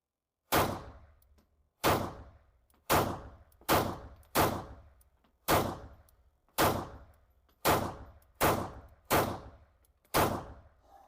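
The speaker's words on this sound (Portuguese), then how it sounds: "vamos disparar alguns tiros" Eleven sharp pistol shots from a Beretta 81/84 chambered in 7.65 Browning ring out one at a time at roughly one-second intervals, each a loud close crack with a short decaying tail, and there is no talk between them.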